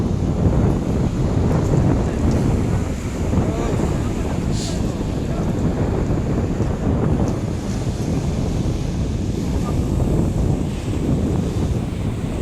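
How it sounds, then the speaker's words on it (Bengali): Big Mediterranean Sea waves roll in and break on the shore in a continuous loud, rough roar of surf, heavily buffeted by wind against the microphone. "দেখেন কত দূর থেকে সাগরের ঢেউ এসে আমাদের গায়ে লাগে, কত বড় বড় ঢেউ।"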